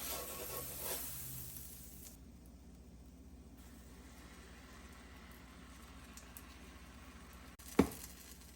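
Pancakes cook in butter on a Presto electric griddle, giving a faint, steady sizzle throughout, broken by one sharp knock near the end.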